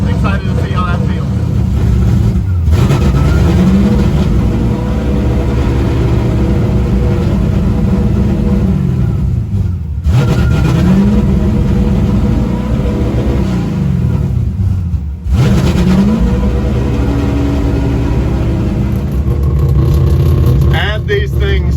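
A drag race car engine at a Klutch Kickers event at Freedom Factory idles roughly and revs in repeated surges with brief cutoffs, loud and close, with faint voices under the engine noise.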